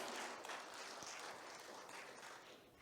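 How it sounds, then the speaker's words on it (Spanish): A church congregation applauds during a service, a dense, faint wash of clapping that holds steady and tapers slightly toward the end, with no speech over it. "Aplauda pues, hombre, en el nombre de Jesús."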